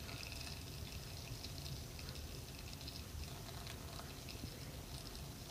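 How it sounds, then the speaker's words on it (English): Guinness is poured gently from a can into a glass, a faint, continuous soft trickle and fizz heard at low level with no talking. "so I'm going to gently pour the Guinness."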